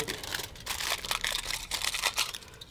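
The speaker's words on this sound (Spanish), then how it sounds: "Pondremos un poquito de papel de aluminio" Aluminium foil is crinkled and scrunched by hand for a chemistry experiment, producing close, continuous crackling and rustling in several short bursts.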